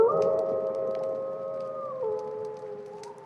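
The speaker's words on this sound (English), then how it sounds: "That wolf sounded miles away." A single sustained wolf howl, held long on a steady pitch before dropping and rising again, sounding distant and mournful with faint background noise.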